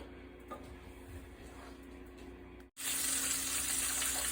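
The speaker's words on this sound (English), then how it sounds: "I got the chicken wing frying up" Chicken wings frying in oil, meant for testing a homemade Buffalo sauce: a low, quiet background that breaks off briefly, then a loud, steady hiss and crackle that fills the rest.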